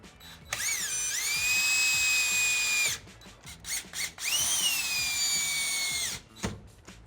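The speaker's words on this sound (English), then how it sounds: "I'm going to use the 2 additional screws to go ahead and screw it to my deck." A power drill drives screws into a roman tub deck mount, two long bursts of rising then steady motor whine with brief ratcheting clicks between them, close and without speech.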